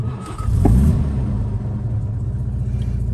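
A 1961 Jaguar Mark II 2.4 engine, already warmed up, cranks on the starter button and catches, rising to a low rumbling idle that continues steadily, close by and with no voices.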